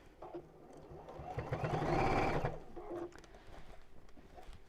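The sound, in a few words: sewing machine stitching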